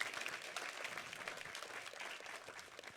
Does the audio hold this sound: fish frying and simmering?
no